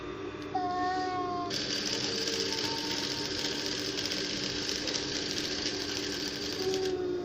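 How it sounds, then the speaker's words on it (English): A sewing machine stitches the straight side seam of a jumpsuit, running steadily and close for most of the stretch after a brief start, with no talking. "come back and sew the sides straight down. So I'll be doing that now."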